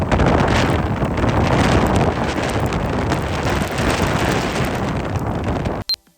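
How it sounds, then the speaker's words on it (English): Strong wind buffets the microphone outdoors in Iceland, a loud, steady roar of gusting air that fills the whole stretch before cutting off abruptly near the end. "The wind was unbelievable."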